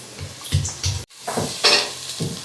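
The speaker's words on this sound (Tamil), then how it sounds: "வெங்காயம் ரொம்ப வதங்கணும் இல்லை நம்ம சாம்பாருக்கு இது பண்ணுற மாதிரி தான் அப்படியே போட்டு வதக்கிடும்" Onions for sambar sauté in a pan with bursts of sizzle and stirring scrapes, a brief break midway, then more rustling stirs close by.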